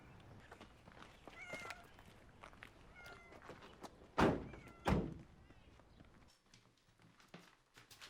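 A cat named Mrs. Snuffles gives a few soft meows amid shuffling footsteps and thumps, with two sharp, loud knocks midway.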